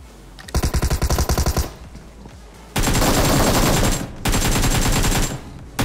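Automatic gunfire in a PUBG-style battle royale game, loud and close: a rapid rattling burst, a pause, then two long sustained volleys separated by a brief gap.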